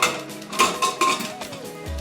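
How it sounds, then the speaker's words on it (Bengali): A metal pressure cooker lid being fitted and locked in a home kitchen, a few close clinks and scrapes of metal against metal followed by a brief low thud, with no talk. "এবার আমি গ্যাস ধরিয়ে প্রেসার কুকারে ঢাকনি আটকে দেব।"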